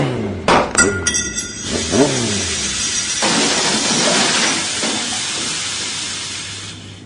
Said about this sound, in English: You get a new car, it breaks down the middle of nowhere.